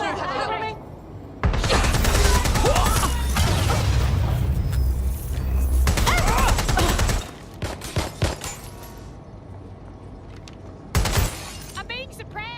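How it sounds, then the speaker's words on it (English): Gunfire rages in the Watch Dogs Legion video game, loud sustained volleys with shattering impacts for several seconds, then sporadic shots, while combat voices call out. "Providing suppressive fire!"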